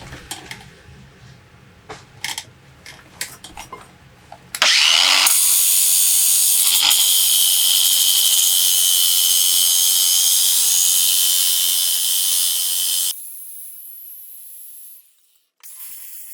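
A flap disc grinder cleans rust off old horseshoes, spinning up sharply and holding a loud, harsh high whine for about eight seconds before dropping to a quieter spin-down, after a stretch of softer handling noises.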